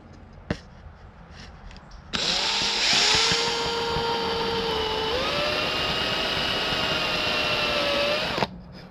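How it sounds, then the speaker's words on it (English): A power drill bores into a wood-turned mushroom ornament, a steady close whine that starts abruptly after a brief pause, shifts pitch slightly midway, and cuts off near the end. "Now that I've drilled one hole, though, I'm going to have to go all the way."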